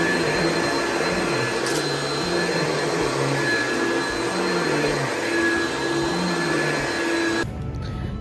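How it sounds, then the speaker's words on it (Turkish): A very old vacuum cleaner runs at home with a loud, steady whine and roar close by. Its pitch wavers slightly as it moves, then the noise drops abruptly near the end. "süpürgeyi kullanıyorum."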